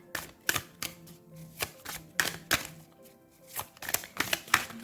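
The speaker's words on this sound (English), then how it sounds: "I don't know why I'm aggressively shuffling." A Kawaii Tarot deck is shuffled aggressively, close up, in quick bursts of crisp riffling clicks and slaps with short pauses between them, and no talk.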